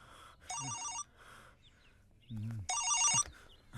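A mobile phone rings in two bursts of an electronic ringtone, loud and close, with gaps between rings and brief voices in the background.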